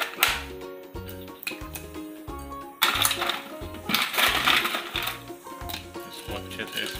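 Ice cubes drop into tamarind water for golgappa paani, making a quick run of hard clinks and clatters close by, over soft rhythmic background music.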